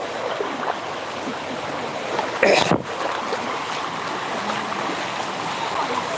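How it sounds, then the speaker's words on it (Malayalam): Floodwater that spread into a paddy field drains back and rushes across a road in a steady broadband wash, with a brief louder splash or gust midway. No voices are heard. "അതിൻ്റെ ഒഴുക്കാണ് ഈ കാണുന്നത്"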